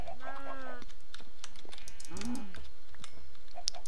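Minecraft cows moo in a pair of low, drawn-out calls amid game ambience, with keyboard clicks tapping throughout and a brief high chime near the end.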